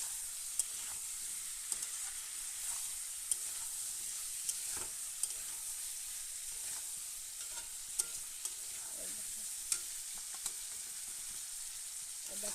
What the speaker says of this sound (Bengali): দেখো মশলা কষা হয়ে গেছে, তেল ছেড়ে দিয়েছে